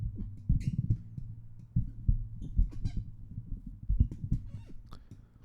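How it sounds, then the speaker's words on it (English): A dynamic microphone is handled and moved back and forth, giving irregular low rumbles and bumps with occasional brighter scrapes and clicks, moderately loud and close. "And now I'll do a little bit of a handling test, just moving the mic back and forth."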